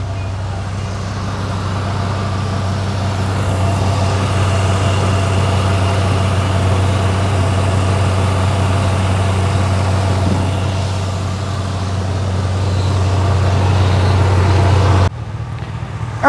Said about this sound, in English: just gonna let it idle, suck down, heat up, make sure I have no leaks